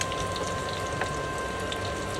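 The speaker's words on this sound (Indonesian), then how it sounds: "Lanjut kita goreng ikan asin." Salted fish frying in hot oil gives a steady, close sizzle and dense crackle that runs unbroken throughout, with no voices.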